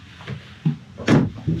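Storage doors under the dinette of a 2021 Winnebago Micro Minnie 1808FBS travel trailer open and close in a few quick knocks and soft thuds, close by and with no talking.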